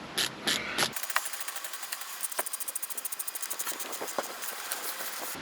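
A Burton Step-On snowboard binding's ratchet is cranked tight, producing a brisk run of sharp, evenly spaced clicks close by, after a few heavier knocks at the start.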